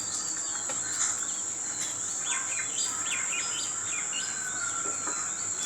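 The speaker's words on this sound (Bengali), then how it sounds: "সকালবেলা বিভিন্ন পাখির কিচিরমিচির, পাখির ডাক আমরা শুনতে পাচ্ছি।" Various birds chirp and call in the morning, short bright tweets scattered over a steady high insect drone, moderately near and with no talking.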